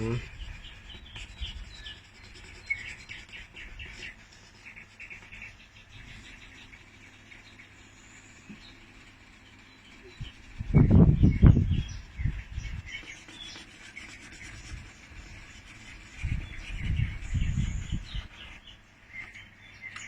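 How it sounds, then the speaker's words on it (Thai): Faint birdsong chirps on and off outdoors near a home, soft high calls heard throughout beneath low rumbling noises and brief muffled bumps. "มีเสียงนกร้องไปด้วยใช่ไหม"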